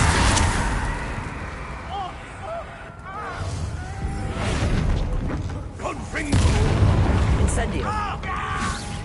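A Bombarda blasting spell goes off in Hogwarts Legacy, heavy rumbling booms swelling within dense combat noise, with whooshing spell effects and voices shouting over the clash.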